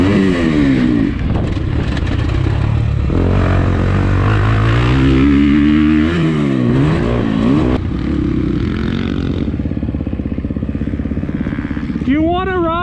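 A Husqvarna 350 dirt bike engine revs hard while being ridden, its loud pitch climbing and dropping through gear changes and throttle blips, close and steady for the whole stretch.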